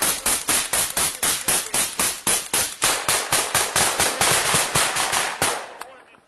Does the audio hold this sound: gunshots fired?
yes